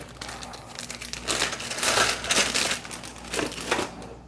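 Plastic parts bags for a 3D printer MMU3 build crinkled and handled close up, a continuous rustling crackle that swells and fades over a few seconds with no voices.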